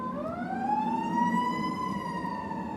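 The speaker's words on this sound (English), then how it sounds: "These sirens are kind of throwing me off" An emergency vehicle siren wails steadily, a rising then sustained tone with a rumbling engine underneath, heard from a moderate distance without speech.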